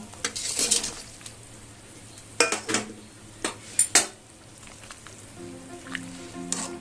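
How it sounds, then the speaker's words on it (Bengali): Foli fish pieces go into bubbling curry gravy in a pan with a few sharp splashes and metal clinks of a utensil against the pan, then a soft simmer. "ঝোলটা ফুটতে শুরু করে দিয়েছে, এবার মাছগুলো আমি সব দিয়ে দেব।"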